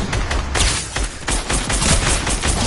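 An SMG fires in a video game, a dense rapid string of close, loud shots in continuous bursts with no talking.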